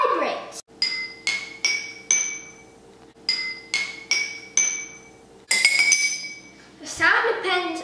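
Water-filled glasses are tapped one at a time, giving a series of bright ringing pings in short runs, each note fading, with a clatter near the end.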